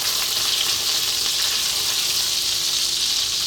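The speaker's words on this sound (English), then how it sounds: "What we're gonna do is drop in those cumin seeds." Cumin seeds sizzle in melted butter in a pan, a steady, loud, close frying hiss that holds unbroken throughout with no talking.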